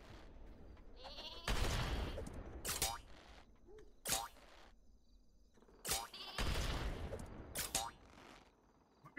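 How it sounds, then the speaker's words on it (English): Cartoonish sheep bleats from the Sheep on a Rope weapon in Worms W.M.D, several loud wavering bleats spaced across the stretch, mixed with bursts, boings and game effects, with no talk over them. "Sheep on a rope."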